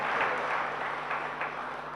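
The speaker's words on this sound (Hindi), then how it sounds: "अपने लिए तालियां बजा रहे" Steady applause from an audience at a Jain religious discourse, a sustained wash of clapping that holds at an even level for the whole stretch without any break.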